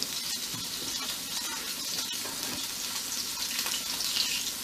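Leg of lamb searing in a hot pan, a steady bright sizzle with faint crackles and occasional scrapes as the meat is turned.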